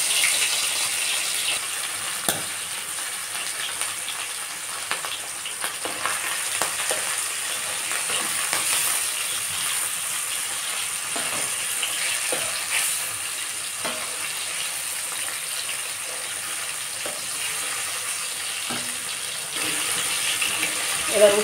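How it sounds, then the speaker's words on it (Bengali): Hilsa fish fry briefly in hot oil with a steady, soft sizzle and crackle running throughout, close by, with occasional light clinks and stirring sounds from the pan. "মাছগুলোকে এবার আমি কয়েক সেকেন্ডের জন্য ভেজে নেব।"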